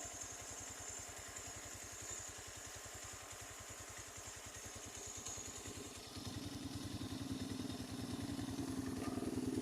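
A Honda CBR motorcycle with many faults idles with a steady rapid putter, then revs slightly louder and rougher near the end; no one speaks.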